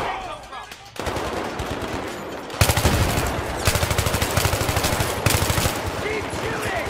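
Heavy automatic gunfire in Battlefield 3 rattles in loud, rapid sustained bursts after a quieter opening, close and dense, with shouted voices mixed beneath.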